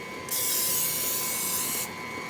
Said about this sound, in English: Some people like to use real butter. I'm okay with using the spray.